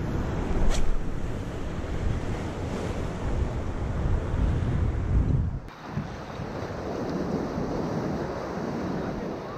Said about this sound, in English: The waves just get you.